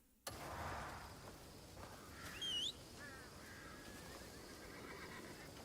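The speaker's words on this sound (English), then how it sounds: "I guess we'll get the horse out." A horse in a video game lets out a bright, rising whinny midway through, set against a steady ambient game backdrop with faint bird calls around it.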